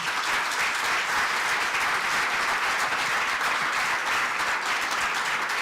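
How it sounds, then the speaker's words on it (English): Sustained applause from an audience at a celebration honoring Pheroze Nowrojee, many hands clapping densely and loudly at an even level with no pauses or speech. "give a big round of applause for Pheroze Nowrojee and his family"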